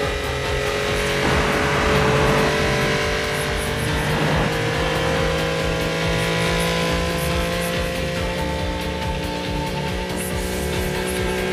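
The Devil Z sports car from an anime races at full power, its engine roaring loud and sustained with a steady high-revving drone and layered harmonic whine throughout, with no voices.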